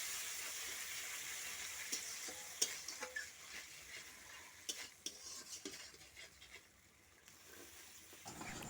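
Onion, ginger, chili and mustard paste fry in a hot pan with a constant loud sizzle, broken by repeated scraping stirs and clinks of a spatula against the metal, no voices.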